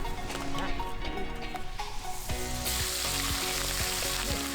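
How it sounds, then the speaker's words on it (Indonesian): Shrimp and fish fry in hot oil with a steady crackling sizzle throughout, dense and continuous, with faint clinks of cookware and a voice in the background. "Selain ikan, emak juga goreng udangnya"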